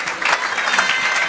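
A church congregation applauds in a short burst, many hands clapping loudly and steadily in a reverberant hall.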